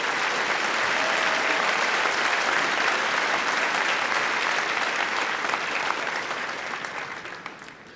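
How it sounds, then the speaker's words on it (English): A commencement crowd applauds master's degree nursing graduates at Washburn University, a dense, sustained roar of clapping from a large hall that holds steady for most of its length before fading near the end. "Please join me in a round of applause in recognition of the special level of accomplishments of these graduates."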